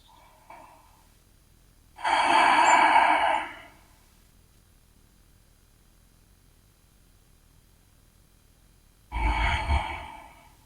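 Two deep breaths during a grounding and stability yoga session, each a broad airy exhale of about a second, near and fairly loud, separated by long quiet pauses with no talk.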